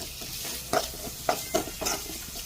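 Chicken leg-piece mappas curry masala stirred in a pan with chilli powder and ground masala, giving several scraping stir strokes over a soft steady sizzle, close and alone without talk.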